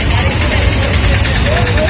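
Vehicle engines idle and rumble close by in a jammed stretch of traffic, a dense low drone with faint horn-like tones drifting over it.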